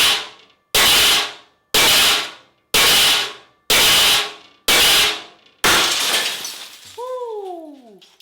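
A cheap car escape tool strikes a tinted car side window again and again, making six sharp, loud cracks at a steady pace before a final blow shatters the glass into a longer crunching, ringing spray.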